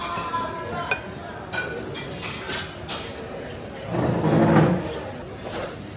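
Glasses clink in a toast over a bacon salad at a casual Hong Kong eatery, with a few sharp clinks amid restaurant clatter and nearby talk.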